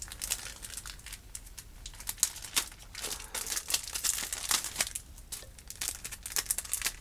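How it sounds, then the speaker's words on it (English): Continuous crinkling of a thin plastic bag holding a pin, close up, with irregular crackles and rustles throughout, no voices. "next item comes in this little plastic bag"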